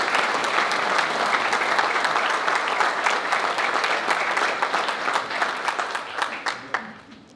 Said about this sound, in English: this council deserves a round of applause for what they do, and please give it to them now